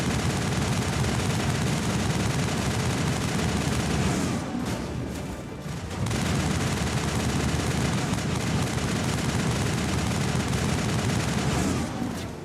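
Dense, sustained automatic gunfire rattles continuously during a firefight in the Mass Effect video game, briefly pausing before resuming at full intensity.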